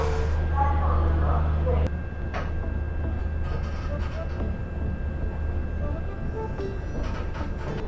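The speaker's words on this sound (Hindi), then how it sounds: "ट्रेन तो हमारी चल दी" A passenger train pulls away along the rails at a station in India. A heavy, close rumble fills the first two seconds, then drops to a quieter rolling clatter while someone talks over it.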